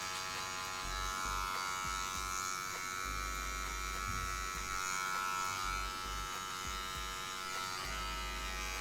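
Electric hair clippers buzz steadily and close up while fading a haircut, a continuous low hum running for several seconds with slight wavering as the blade is worked lightly over the hair.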